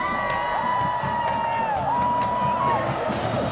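Stadium crowd at a college football game in the rain, Appalachian State at Georgia Southern, roaring and cheering steadily with whoops rising over a loud, continuous mass of voices.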